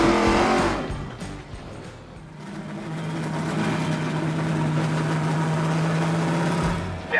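TA/GT race cars at Mid-Ohio on a wet track pass close by with a burst of engine noise and tire hiss, then one car's engine builds into a steady, rising drone as it heads down the straight.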